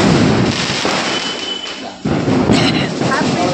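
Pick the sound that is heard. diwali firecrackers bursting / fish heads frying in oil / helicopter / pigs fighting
diwali firecrackers bursting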